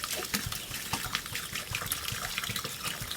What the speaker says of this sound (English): powder, add some water.